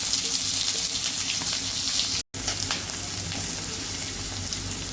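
Chopped onion frying in hot oil in a kadai, a steady bright sizzle that runs almost the whole time, with one brief dropout near the middle.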